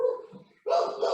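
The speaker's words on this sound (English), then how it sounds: "I got done with my thought right when they started barking" Several dogs break into loud, close barking in a sudden burst after a brief lull, with rapid overlapping barks and yips continuing to the end.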